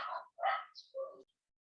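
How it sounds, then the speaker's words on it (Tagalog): Dogs bark noisily nearby in a few short, separate bursts, one after another, with brief quiet gaps between them. "maingay yung mga aso"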